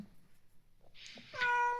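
A pet cat named Pinky Rani meows indoors, starting with a faint bleat and then giving one loud, drawn-out meow close to the listener.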